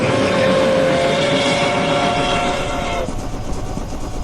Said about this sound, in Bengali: সামনে দিয়ে রেলগাড়িটা গর্জন করতে করতে